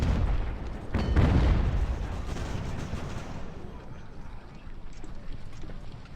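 Muffled, distant cannon fire from sailing-ship artillery in the naval strategy game Ultimate Admiral: Age of Sail, a low boom near the start fading into a rumbling wash.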